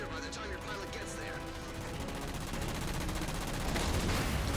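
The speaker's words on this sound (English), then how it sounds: "with all those Apex guns still firing" Rapid gunfire from Apex guns rattles steadily through a Halo Spartan Ops battle, a dense continuous barrage of shots with a voice talking over it and the firing swelling louder toward the end.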